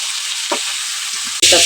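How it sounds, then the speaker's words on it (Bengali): Chicken pieces frying in a pan of browned spice paste, giving a steady close sizzle with a brief stirring scrape midway and a louder burst of sizzling near the end. "মুরগির মাংসটা দিয়ে দিই পেস্টটা ব্রাউন কালার হয়ে গেছে একটা কিছু ভাজতে নেব"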